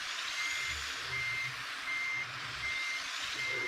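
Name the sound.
truck reversing beeps in a video game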